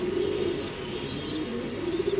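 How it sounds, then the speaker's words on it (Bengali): Original Pakistani Danish pigeons kept with their chicks give soft, low, sustained coos close by, a steady murmuring over a faint background, with no speech. "বাচ্চা সহ অরিজিনাল পাকিস্তানি ডেনিশ কবুতর"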